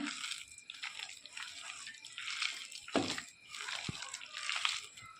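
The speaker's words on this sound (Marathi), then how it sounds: "एक ते दोन चमचा मी पाणी याच्यामध्ये टाकलेला आहे" A spoonful or two of water is poured into onion pakoda batter in a bowl. Soft, quiet splashing and sloshing with a few small clinks runs unevenly through the stretch.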